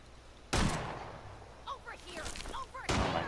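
Two loud, distinct gunshot blasts from a companion firing at a doe in Fallout 4, a short pause between them, with quiet speech-like sounds in the gap.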